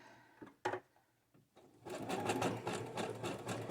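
A sewing machine stitches a fabric ruffle for a journal cover: a couple of short isolated bursts, then a steady, busy run of rapid needle strokes close to the microphone.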